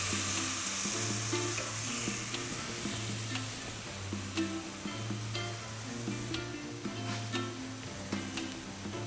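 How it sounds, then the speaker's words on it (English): Beef chunks browning in a pot for beer stew, giving a loud, steady sizzle and crackle throughout, with a low hum and occasional clicks of utensils. "We're gonna brown the beef on all sides."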